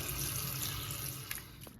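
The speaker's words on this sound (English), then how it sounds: "now I'm just going to dilute it a little bit with water here" Tap water runs steadily into a chicken marinade to thin it, a continuous close rushing pour that tapers off near the end with a couple of small splashes.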